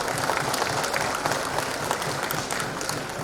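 Applause from an audience at a food security briefing session in Perak, steady dense clapping filling the whole stretch at moderate loudness.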